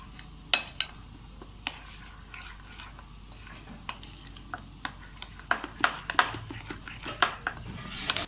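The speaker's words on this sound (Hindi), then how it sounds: "और उसको इस तरह से अच्छी तरह से मिक्स कर लेंगे।" A utensil scrapes and clinks against a bowl while three tablespoons of cocoa powder are stirred into homemade cake batter, in scattered sharp taps that grow busier toward the end, close up with no talking.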